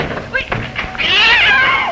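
A cat yowls in a long, loud, wavering meow near the end, following a stretch of frantic talking and scuffling thumps.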